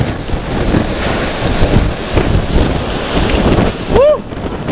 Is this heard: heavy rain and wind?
yes